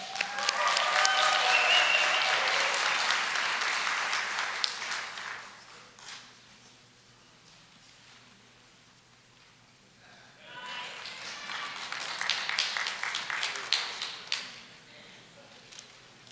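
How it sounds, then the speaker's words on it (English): A meeting audience applauds, a dense round of clapping that fades into a quiet lull with faint talk, then a second burst of applause rises and tapers off. "Give Peg a round of applause, everyone."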